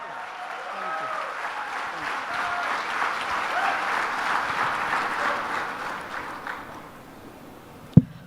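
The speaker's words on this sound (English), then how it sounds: "Can we have a round of applause?" Sustained applause from a conference audience for Indian football legend Bhaichung Bhutia fills the room, a broad crowd clapping that swells mid-way, then fades before a sharp knock at the end.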